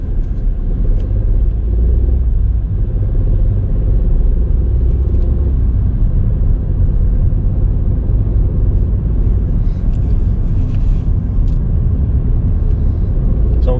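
Heard from inside, a car drives a driving test route in Dun Laoghaire, giving a loud, steady, low engine and road rumble throughout with no talking.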